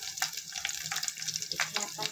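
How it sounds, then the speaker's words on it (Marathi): Garlic sautéing in a pan gives a close, crackling sizzle with scattered sharp pops and spatters over a steady frying hiss. "लसूण छान परतून झालं आहे"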